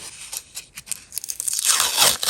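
Close, crisp tearing of a paper surprise packet, starting with a few short rips and building into a longer, louder continuous tear.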